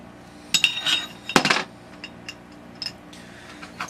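A metal washer is handled during T96 assembly, producing a few close, sharp metallic clinks and small rattles in separate short bursts with quiet pauses between them.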